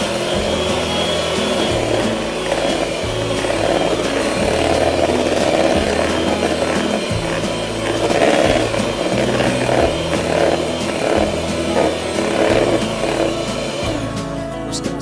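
Electric stand mixer beating two sticks of butter, two cups of confectionery sugar and half a cup of cherry juice for a Valentine's cherry cake frosting, a loud, continuous whirring motor with a rhythmic chugging pulse, no talking.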